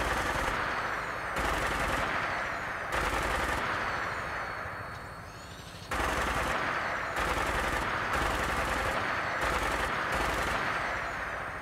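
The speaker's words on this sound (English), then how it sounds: "it looks like we're being shot from the other side" Rapid bursts of Fallout 4 gunfire rattle in repeated volleys, loud and close, from the other side while flying in a vertibird, with a short lull midway before the shooting resumes.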